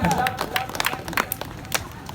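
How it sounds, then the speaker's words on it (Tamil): A crowd of temple-goers claps in scattered, uneven bursts, fairly loud and close, with a few distinct sharp claps standing out over a general murmur. "எங்கே எங்களுடைய கரகோஷம் நல்லா"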